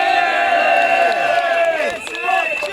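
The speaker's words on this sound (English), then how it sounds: "Give the man another round of applause" Crowd applause and cheering from an audience at a public talk, loud and sustained throughout with whoops mixed in, tapering slightly near the end.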